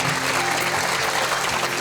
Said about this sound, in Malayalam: നല്ലൊരു കയ്യടി കൊടുക്കണം.